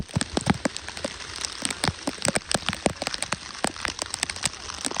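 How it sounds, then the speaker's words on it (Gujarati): Rain falling at Saputara, a hill station, steady and close with dense irregular drop impacts spattering on a nearby surface, no voices. "વરસાદ ચાલુ છે."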